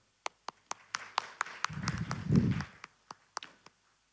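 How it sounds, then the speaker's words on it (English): A conference audience gives scattered applause, with sparse sharp claps spaced out across the moment and a brief low murmur of voices in the middle. "warm applause for them."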